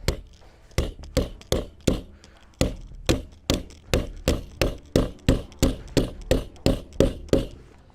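Repeated sharp impact strikes from a rifle optic being used as a hammer at a shooting range during a torture test, about fifteen loud, evenly spaced whacks with a short hollow ring after each.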